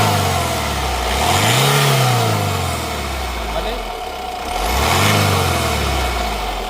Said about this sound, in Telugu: ఒకసారి యాక్సిలేటర్ ఇవ్వమా.